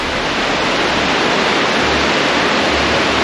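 A high, tannin-stained river rushes loudly and continuously at close range, a dense broadband roar with no pauses and no voices.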